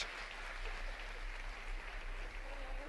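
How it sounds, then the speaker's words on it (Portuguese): An audience at a faith-themed event claps in a sustained, fairly soft round of applause that keeps an even level for several seconds, heard alone without speech. "E vamos dar uma salva de palmas porque ela realmente confia na misericórdia de Deus."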